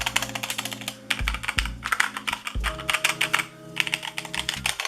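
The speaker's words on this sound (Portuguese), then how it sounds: "é um som de switch linear" HyperX Alloy Origins Core TKL keyboard with HyperX Red linear switches being typed on, rapid close clacking keystrokes in a steady flurry with brief pauses, over a low musical background.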